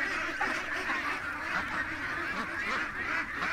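Geese and ducks honk and quack continuously in a pen near a filled bathtub, a dense overlapping flock chorus close by with no pauses.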